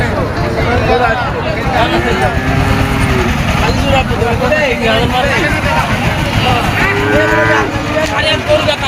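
Several Friesian cows moo repeatedly at a cattle market, low drawn-out calls rising over a loud crowd of people talking and bustling nearby.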